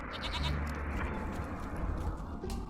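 A goat in The Witcher 3: Wild Hunt video game bleats repeatedly over a steady ambient game soundscape, fairly close and clear.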